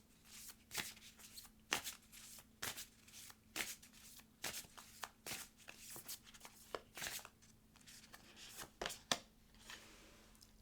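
Healing Waters Oracle cards being shuffled by hand, a quiet, close series of crisp riffling bursts that repeat at an irregular pace over a faint background hum.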